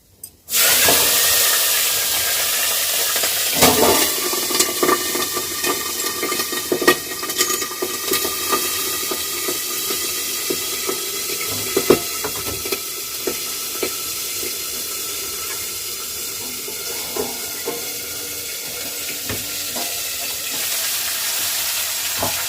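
Green chilies frying in hot oil left from frying rupchanda fish give off a continuous loud sizzle and crackle, with occasional sharp spatters and no talking.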